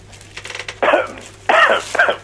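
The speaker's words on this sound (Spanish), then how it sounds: "pará, que termine de toser" A person gives two or three harsh, loud coughs close to the microphone, each a short raspy burst, with quieter throat sounds in between.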